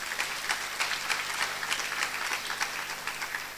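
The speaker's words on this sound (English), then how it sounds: "A round of applause." Applause from an audience at an alumni conversation event, a steady dense wash of clapping throughout, moderately loud with no talk over it.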